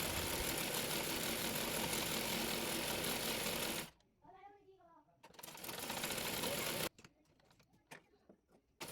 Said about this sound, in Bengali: এরপর চাপ সেলাই দিয়ে নেব।